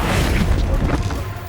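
A fire spell bursts into a loud, close explosion in Hogwarts Legacy, a heavy booming crash that rumbles and fades over a second and a half.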